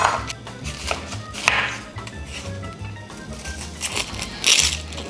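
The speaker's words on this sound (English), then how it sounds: "So we're gonna just rough chop 2 onions." Knife roughly chopping two onions on a cutting board in a home kitchen, a steady run of close, crisp chops with brief pauses between bursts.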